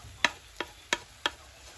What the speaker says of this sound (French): maintenant je vais les mélanger avec l'oignon. Je vais mélanger tout ça ensemble.